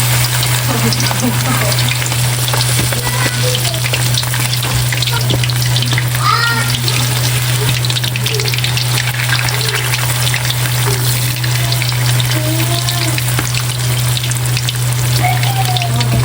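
Chicken fries in hot cooking oil with a loud, dense, unbroken sizzle and crackle under a steady low hum, close by, lasting the whole stretch.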